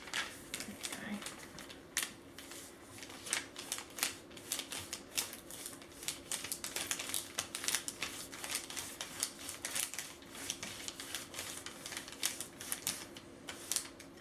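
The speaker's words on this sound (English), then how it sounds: "So do you want to get the crayon and do some rubbings of these?" A crayon rubs over paper laid on top of a leaf, giving a quick run of dry, scratchy strokes that continues steadily while people talk nearby.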